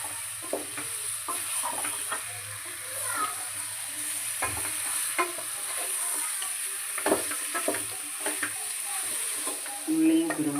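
Onion sizzles and gets stirred in hot oil inside a pressure cooker for chicken curry: a continuous close frying hiss broken by scraping spoon strokes and light clinks.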